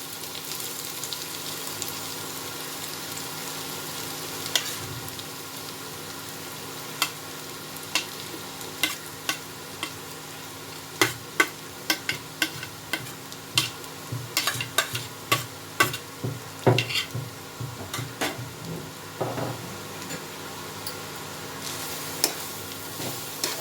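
Grated carrot frying in hot ghee for gaajar halwa, a steady sizzle with repeated sharp scrapes and clinks of a spoon stirring the pan, louder and busier through the middle, no speech.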